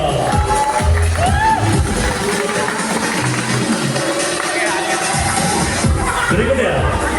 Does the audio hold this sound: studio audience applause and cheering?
yes